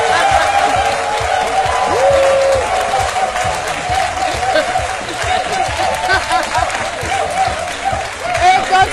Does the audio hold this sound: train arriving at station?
no